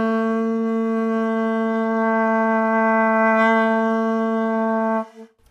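A single long saxophone note held steady for about five seconds while the mouth cavity shape shifts, giving a rich harmonic tone with subtle colour changes before it cuts off abruptly.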